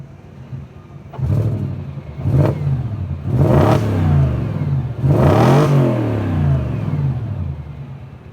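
A 2004 Audi B6 S4 engine revved in a handful of rising-and-falling ramps from idle, loud and close, with no voices over it; the car has a known oil leak at the valve cover gaskets.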